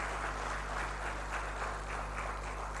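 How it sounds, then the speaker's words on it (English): A conference crowd at an African digital economy summit applauds the Malawi delegation. The clapping is steady and moderately loud, a dense wash with slight swells and no voices over it. "a heavy clap."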